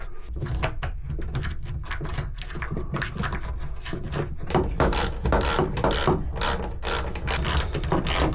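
Ratchet wrench clicking rapidly while bolts are fitted inside a van during a camping and race setup, a dense close mechanical ratcheting that runs continuously and loudly with no talking.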